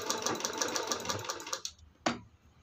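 A sewing machine stitches around the curved back of a baby boot made from a handkerchief, running in a steady rapid burst for about a second and a half, then stopping, followed by a single sharp click.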